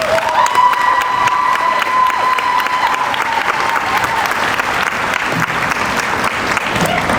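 Sustained applause from a convocation audience welcoming a trustee, steady dense clapping with some cheering throughout, and a faint tone ringing early on.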